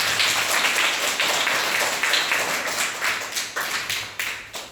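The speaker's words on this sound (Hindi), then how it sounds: "चलिए जोरदार ताली बजा दें।" Children clap together loudly in a classroom, a dense run of overlapping claps that lasts throughout and thins toward the end into a few separate strong claps.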